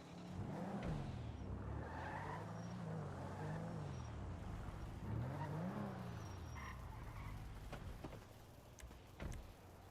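A car in a role-play driving game revs its engine and skids during parking, with a steady motor drone, rising and falling engine pitch and tyre squeal, and no voices.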